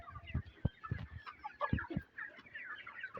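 Chickens on a poultry farm of about 1,100 birds cluck and murmur softly and continuously, with scattered sharper clucks near and far and no talking.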